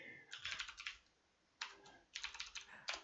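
Someone types names on a computer keyboard in bursts of quick clicking keystrokes, close and fairly quiet, with short pauses between runs.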